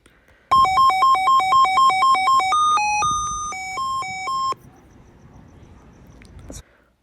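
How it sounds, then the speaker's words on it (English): An electronic device beeping out a loud, rapid melodic tone sequence for about four seconds, a repeated electronic ringtone-like pattern of stepped pitches, then cutting off and leaving a low background murmur. "obviously it's making these beeping noises"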